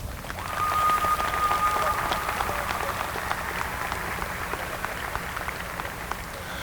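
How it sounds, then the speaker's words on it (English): A crowd at a high school commencement applauds steadily, hundreds of hands clapping in a dense wash that stays loud across the whole stretch, with a faint whistle near the start. "give all your parents a round of applause"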